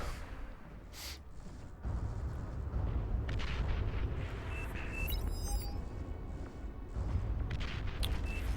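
Units trading fire in a Beyond All Reason real-time strategy battle on the Supreme Isthmus map, a dense rumbling barrage of overlapping cannon booms and shots that continues without pause, with occasional higher electronic tones.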